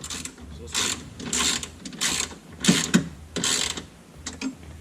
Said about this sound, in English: Let's go ahead and tighten these bolts down.